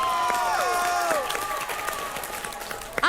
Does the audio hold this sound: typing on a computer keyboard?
no